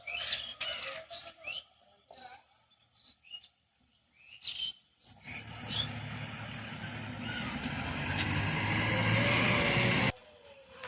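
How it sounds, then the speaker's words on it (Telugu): A car passes through a village, rising from a faint approach into a broad, building rumble that holds steady for several seconds before cutting off abruptly, with scattered bird chirps and calls heard earlier against quiet surroundings. "ఇదో కారు"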